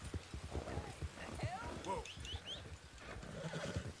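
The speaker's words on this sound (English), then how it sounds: "we're gonna stable this horse" Rhythmic horse hoofbeats clip-clop steadily in Red Dead Redemption 2, joined by a horse's whinny, with a person talking over the game sounds.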